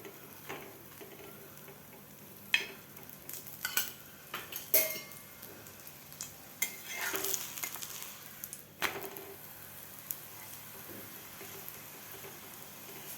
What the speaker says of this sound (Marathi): दोन्ही साईडकडून आपल्याला व्यवस्थित असा पराठा शेकून घ्यायचा आहे दुसऱ्या बाजूला सुद्धा आपल्याला तूप लावून घ्यायचं आहे